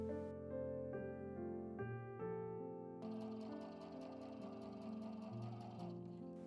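Sewing machine stitching fabric for a drawstring bag: a steady mechanical whir with tonal hum, first in short start-stop bursts, then a longer continuous run, close and clear with no voices.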